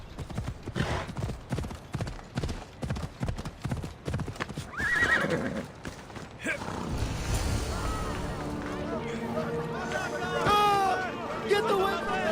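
In the Assassin's Creed Odyssey video game, a horse's hooves clip-clop in quick rhythm, then shrill neighs and whinnies ring out, with voices talking in the background.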